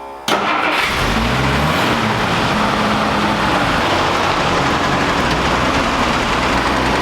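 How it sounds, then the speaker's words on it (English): An old truck engine cranks and catches abruptly, then settles into a loud, steady, rough idle with a dense mechanical roar that continues close to the microphone for the rest of the clip. "This engine starts rough and idles like crap."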